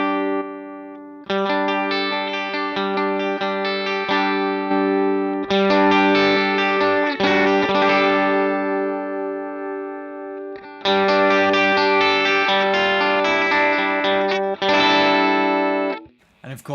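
Electric guitar played through a BOSS FZ-2 Hyper Fuzz pedal in boost mode rings out in sustained, bright, distorted chords and notes across several phrases, with brief pauses between them.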